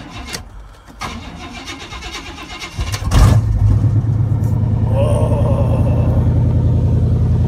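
An old, battered truck with a broken key stuck in the ignition cranks through a few uneven attempts, then catches and settles into a loud, steady, rumbling idle close by.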